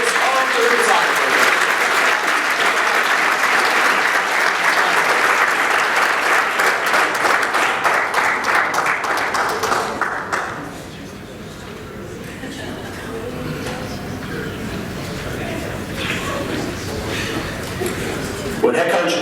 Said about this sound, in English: Please join me in a round of applause for the senior members of the women's soccer program.